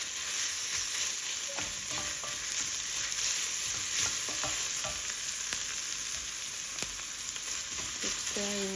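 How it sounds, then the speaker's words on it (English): A black bean and barley mixture with miso being stirred in a pan, steady sizzling with repeated scraping strokes of a spoon, close and continuous with no talk. "So just keep stirring."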